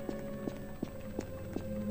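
Horse hooves in a Roblox horror game clop at an even walking pace, five faint, evenly spaced steps over a low steady hum, no voices.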